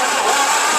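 A 1937 Cletrac tractor's starter turns over the clutch and drivetrain with a loud, steady mechanical grinding churn that holds close and even for under a second.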